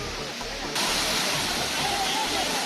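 Suruli waterfall near Cumbum in Theni district, where tourists bathe in the herb-laced water: a loud, dense, steady roar of falling water that grows slightly fuller partway through.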